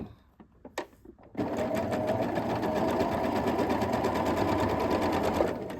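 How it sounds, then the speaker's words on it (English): Sewing machine chain-piecing quilt pieces for a block-of-the-month quilt: a few soft handling clicks and taps, then a steady, close, continuous mechanical whir of stitching that runs evenly to the end. "And I'm going to sew."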